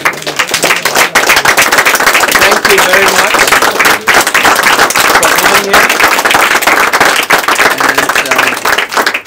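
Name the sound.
audience applauding after a performance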